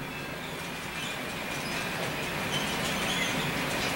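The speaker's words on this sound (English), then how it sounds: "the rest of the train coming around the loop" Continuous rumbling of a model train rolling around a curved, graded track loop at a model railroad club, with faint squealing from the wheels, steady and fairly loud throughout.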